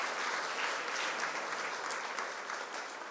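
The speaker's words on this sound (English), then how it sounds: "So if we can just give a little round of applause for all of these awesome sponsors." Even round of applause from a tech conference audience for event sponsors, dense, continuous clapping at moderate level that tapers slightly toward the end.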